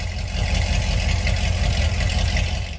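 A Corvette C6 with an LS3 V8 and longtube headers idles close by, a deep, steady rumble with a slight loping pulse and no change in revs throughout.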